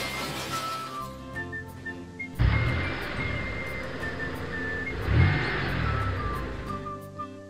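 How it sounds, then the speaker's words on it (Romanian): Several cartoon cars speed past on a wet road, each pass a loud rising whoosh that builds and fades over music, with two strong surges close by. "4 mașini trec repede pe drum."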